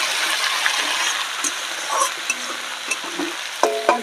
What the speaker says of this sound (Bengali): এদিকে পেঁয়াজটা আমার ভাজা হোক